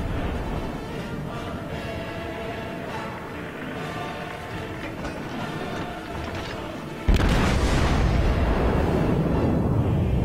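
Naval shells fire and explode in World of Warships, with the battleship Arkansas in play: a dense, rumbling barrage churns for several seconds, then a sudden loud blast erupts and keeps roaring to the end.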